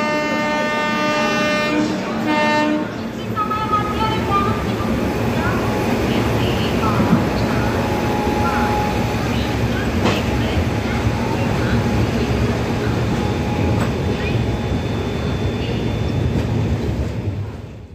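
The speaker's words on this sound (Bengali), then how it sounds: "আমাদের ট্রেন পুরী স্টেশনে ঢুকে গেল।" The Shatabdi Express pulls into Puri station at night, its rumbling carriages and clattering wheels running loud and continuous, with a short horn-like tone near the start and people talking over the train noise.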